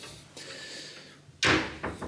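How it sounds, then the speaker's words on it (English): A hotel room door at a Manchester Airport hotel swings shut with a single loud close and latch click, followed by a couple of softer knocks in a quiet room. "that'll be the door closed"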